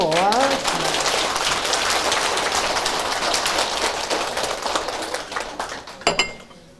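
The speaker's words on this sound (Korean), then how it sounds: "이럴 때는 박수 한번 쳐주는 거예요" Dense, steady applause from a seated church audience at a seniors' gospel camp lecture, filling the room evenly and thinning out toward the end, with a voice briefly present early on.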